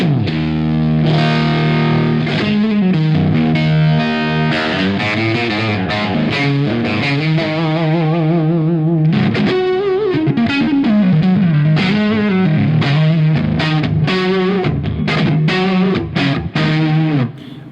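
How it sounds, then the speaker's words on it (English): A distorted electric guitar plays overdriven riffs and sustained chords through a rebuilt tube amp, loud and continuous with no talking. "this is what the amp sounds like"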